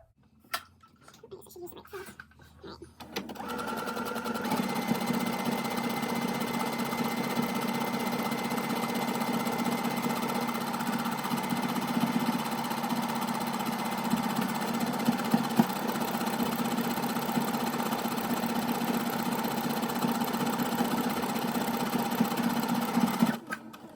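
A home sewing machine stitches a buttonhole on a hooded tee, running in a steady, fast, continuous mechanical whir close up after a few seconds of quiet handling noise at the start.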